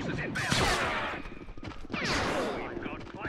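Gunfire in a modded tank battle in Men of War: Assault Squad 2: scattered rifle shots and crackling volleys ring out over a busy battlefield din, while someone talks over it.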